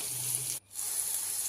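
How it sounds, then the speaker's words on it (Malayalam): Sliced onions and shallots sauté in a pan with salt, giving a continuous close hiss of frying that breaks off briefly partway through and then resumes. "അതിലേക്ക് കുറച്ച് ഉപ്പ് ഇട്ട് കൊടുത്ത് നല്ലോണം ഇളക്കി വഴറ്റിയെടുക്കാം"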